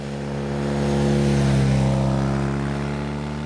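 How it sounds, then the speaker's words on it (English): A BMW R NineT Urban G/S motorcycle engine burbles nearby with a deep, rumbling tone that swells and eases as the revs rise slightly and fall. "It's got a real snap to it and a real burble"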